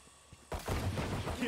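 Gunfire in a shooter video game: a sudden loud burst of rapid shots after a quieter moment, continuing as dense crackling fire under and around a player's voice.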